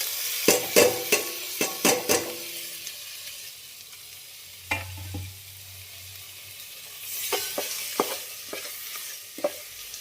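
Chopped tomatoes tossed into a hot pan for kuska, bringing a burst of close spoon-and-pan clatter and stirring knocks, then a softer sizzle with scattered scraping taps.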